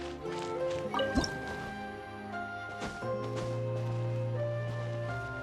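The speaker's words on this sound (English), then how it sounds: "Wow, another water droplet just came out from the wall!" Water droplets pop out of a wall in a video game, a few soft wet drips and squishes layered over sustained game music tones.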